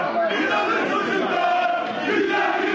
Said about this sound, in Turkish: İnanın çocuklar tezahüratı var